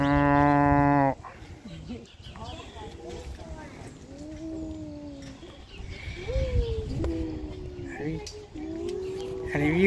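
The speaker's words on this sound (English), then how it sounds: "Look at the big cows." Dairy cows on a farm moo loudly, a long harmonic low at the start followed by several shorter, drawn-out calls from the herd, with a voice and other talk mixed in.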